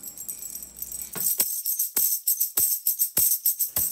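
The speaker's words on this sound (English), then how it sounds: "And now the tambourine." A tambourine struck in a steady beat, crisp jingling hits ringing close and loud at regular intervals after a quieter opening.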